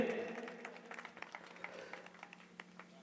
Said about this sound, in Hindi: एक बार जोरदार तालियों से अनुमोदना करेंगे।